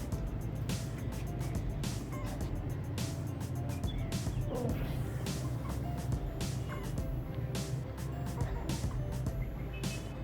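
Rhode Island Red breeder chickens around five months old in an inexpensive hen shed, giving repeated clucks and calls over a steady low background hum, fairly close and continuous.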